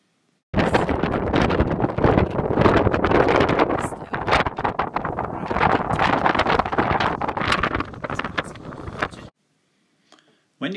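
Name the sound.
strong wind on Buckland Beacon, Dartmoor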